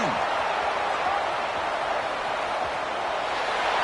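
A championship football stadium crowd roars after a Wolverines defensive touchdown, a dense, sustained wash of cheering and noise that stays loud and even for the whole stretch, with no clear individual voices.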